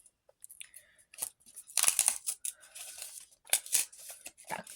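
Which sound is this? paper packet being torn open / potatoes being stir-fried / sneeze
paper packet being torn open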